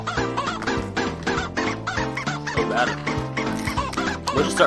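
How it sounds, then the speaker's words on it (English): Dense, rhythmic chicken clucking set to a bouncy tune from GTA 5 runs loud and continuous throughout, the squawks stacked and repeating in a song-like pattern. "Chicken. Chicken."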